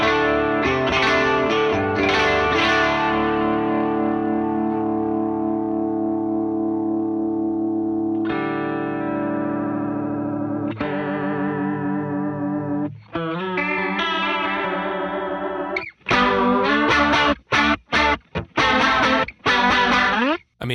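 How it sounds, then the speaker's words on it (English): Electric guitar through a Warm Audio WA-C1 chorus vibrato pedal on its vibrato setting, chords and single notes wobbling in pitch with a deep, wild warble, played alone with pauses and a burst of quick strums near the end. "Let's swap over to vibrato."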